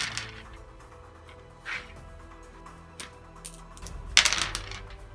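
Command dice for the Deadzone tabletop game are rolled, landing in a few sharp clattering bursts with a bigger tumble of rattling clicks near the end, close and with no talk.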